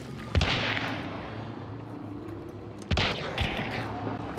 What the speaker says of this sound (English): He's shooting the zombies.